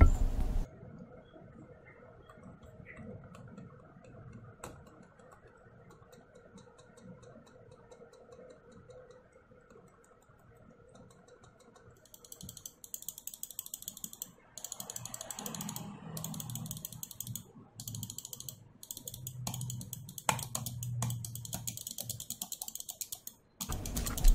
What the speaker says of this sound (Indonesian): perbandingan silent dan tidaknya di mouse lain